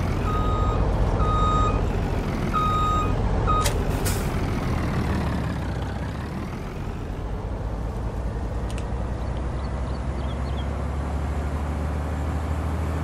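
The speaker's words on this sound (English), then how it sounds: "This is that new Kenworth I was talking about. You can tell it sounds pretty good." Kenworth semi truck in a farm simulation game, with steady reversing beeps at the start over a deep idling diesel engine rumble, followed by a brief air-brake hiss and a continuing low engine drone.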